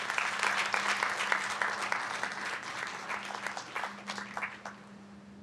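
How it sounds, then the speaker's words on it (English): Sustained applause from an audience at a town council meeting, steady clapping that thins toward the end, with a low hum running underneath. "Let's give each one of these people a round of applause."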